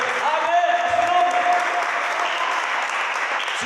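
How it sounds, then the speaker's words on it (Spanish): Church congregation applauding, a loud, dense and sustained burst of clapping with crowd voices and a held tone mixed underneath. "Denle un aplauso a Cristo."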